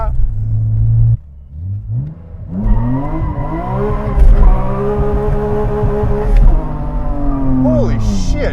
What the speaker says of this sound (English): through third gear it's smoking tires